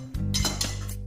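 A spoon scrapes and clinks against a pan while roasted peanuts and coconut are stirred in it for sesame and jaggery chikki. There are a few quick, close metallic strokes, and the whole thing lasts barely a second.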